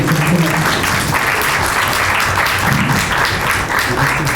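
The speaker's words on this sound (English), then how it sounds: "Yes, round of applause." A room of attendees at a built-environment digital technology talent event gives a round of applause, dense continuous clapping filling the space for several seconds without pause.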